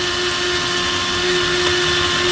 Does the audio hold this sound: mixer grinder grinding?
yes